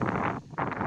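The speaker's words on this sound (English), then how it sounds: "It is getting very windy." Wind buffets an outdoor microphone in loud, rough, roaring gusts, with a brief lull in the middle before the blast returns.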